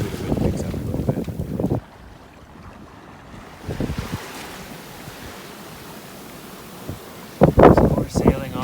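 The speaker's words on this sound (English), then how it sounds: "So we're sailing off the west coast of Vancouver Island" A sailboat under way in the wind off the west coast of Vancouver Island, with steady wind rush and water noise across the whole stretch, and a person talking at the start and end.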